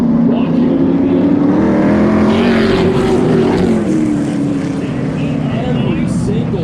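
Hot rod race cars roar around River Glade Speedway in a dense, loud engine drone that swells as they pass the flagstand, with an announcer talking over the noise.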